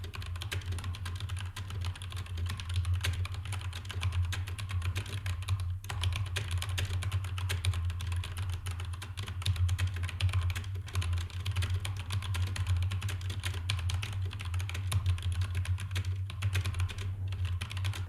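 Fingers tap steadily on a computer keyboard during a typing test, a fast continuous patter of soft key clicks over a low hum, with no one speaking.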